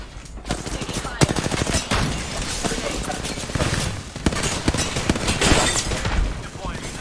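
Video game gunfire, with dense automatic bursts, scattered single shots and crashing impacts that keep up steadily and loudly, while game voice lines speak over the shooting.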